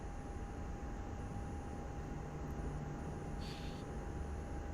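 A Ryanair Boeing 737 Max8 airliner in Microsoft Flight Simulator 2024 gives a steady, even engine roar with a thin high whine running through it, constant and unbroken throughout.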